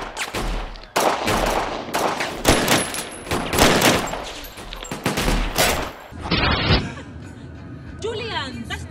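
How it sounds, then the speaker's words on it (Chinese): Rapid bursts of blank-round gunfire from a long-take gunfight scene in a Johnnie To film, with loud volleys and dense overlapping shots broken by brief pauses. Voices are mixed in with the shooting. "演员排练时也得用空弹头射击，结果打出去将近3000发子弹"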